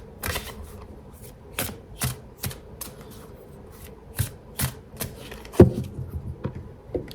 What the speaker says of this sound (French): Et on va se tirer 3 cartes pour le mois de février.